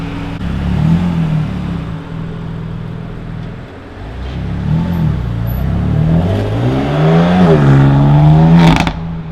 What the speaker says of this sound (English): there goes the M4